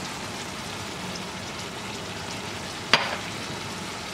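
Sloppy joe mix sizzles softly in a frying pan as it is stirred around, a steady low crackle with one sharp scrape or clink of the utensil near the end.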